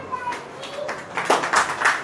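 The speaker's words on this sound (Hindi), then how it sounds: "ताली बजाओ।" A church congregation bursts into clapping during a sermon, scattered applause building over the last second amid faint voices.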